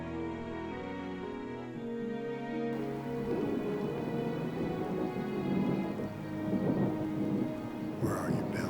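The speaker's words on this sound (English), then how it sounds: "Looks like a storm's coming, guys." A thunderstorm with rain: low rumbling thunder and steady rainfall, with a sharper crack of thunder near the end, no voices.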